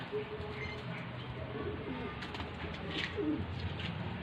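Pigeons in a racing loft coo softly through steady background noise, with low, rolling calls rising now and then and a few faint chirps.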